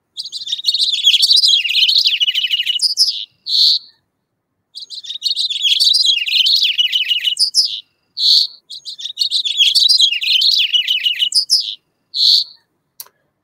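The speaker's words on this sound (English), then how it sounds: "And then this bird singing back at its house." A house finch sings long, warbling phrases of rapid chirps, repeated three times with short pauses and brief single calls between, clear and close.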